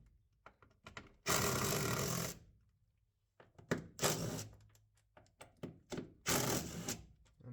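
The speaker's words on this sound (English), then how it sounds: "it's just a case of blowing off these few bolts" A power tool, likely an impact gun, blowing off the bolts holding a door on a classic 1980s JDM turbo car, with two long loud bursts and a shorter final burst separated by clicks and clunks.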